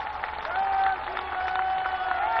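Loud applause from a crowd at a Vijaya Dashami celebration as the Prime Minister applies tilak to figures of Rama and Lakshmana, a short dense wash of clapping with a sustained tone running beneath it.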